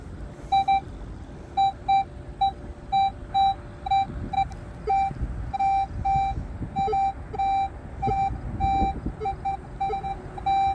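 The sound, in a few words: metal detector signal beeping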